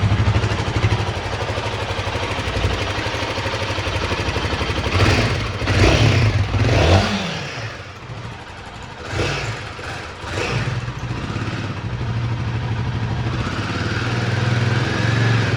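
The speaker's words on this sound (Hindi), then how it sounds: "तो सबसे पहले आप लोग बाइक की आवाज़ सुनो" A Royal Enfield Himalayan 450 motorcycle engine runs steadily at idle with a low rumbling thrum, a couple of short throttle rises in the middle, close and continuous with no talk.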